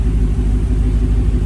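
Supercharged engine of a new Dodge Hellcat drones with a loud, steady low rumble and a faint whine riding on top, holding even and close for the whole moment with no talk over it.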